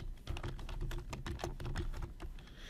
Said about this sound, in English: type what you see me typing here in these cells